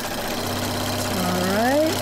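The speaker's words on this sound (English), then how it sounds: "I don't want to sew that thread in." A sewing machine stitching a cotton and flannel rag quilt, a loud steady mechanical hum and rapid needle rhythm, close, with a rising whine near the end.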